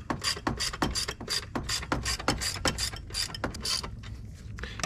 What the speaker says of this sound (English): Let's put some tension on it. And we do that by tightening up this bolt here.